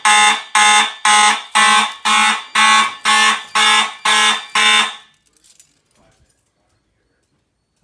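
A fire alarm sounds during an alarm system test: about nine loud, evenly spaced horn blasts in quick rhythm, then abrupt quiet with only faint small noises.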